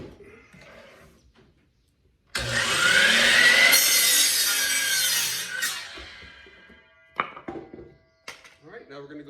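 A power saw rips through a wooden 2x6 board in one loud, sustained cut of several seconds, then cuts off, followed by clattering and brief talking.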